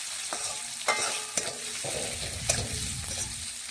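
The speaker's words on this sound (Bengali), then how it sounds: "এখন নাড়াচাড়া করে পেঁয়াজ একটু বেশ কিছুক্ষণ ভেজে নরম করে নেব।" Chopped onions fry in a pan with a steady sizzle, broken by several sharp scrapes and knocks as they are stirred; no voices.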